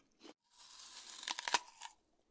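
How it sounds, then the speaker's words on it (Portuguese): Someone bites into a crisp apple or other fruit: a short soft click, then a sustained juicy crunching tear with several sharp snaps, close and alone before falling silent. "Se você falou alguém mordendo uma maçã ou fruta, acertou!"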